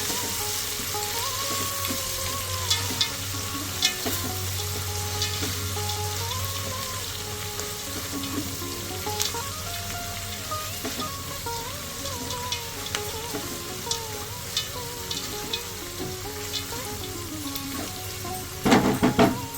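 Tempering frying on a low flame for puffed rice oggarane, a continuous close sizzle and crackle of oil with scattered pops, a faint hum in the background and a brief clatter near the end.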